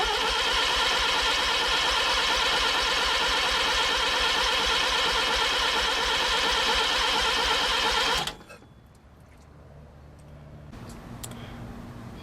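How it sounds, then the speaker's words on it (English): A Mazda RX7 rotary engine cranks over on its starter during a battery draw test, a loud, steady, rapid whirring churn lasting about eight seconds before cutting off abruptly. A few faint clicks and low room noise follow. "we're going to crank it over"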